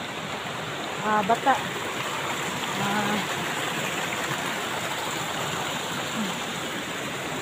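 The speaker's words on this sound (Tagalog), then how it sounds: "Umuulan na." Steady rain hisses down beside a stream in the forest, a constant wash of falling water with a faint voice speaking briefly near the start.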